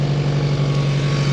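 A 1982 Honda V45 Sabre café racer motorcycle idles close by, its V4 engine holding a steady, even low hum with a constant throb and no pauses.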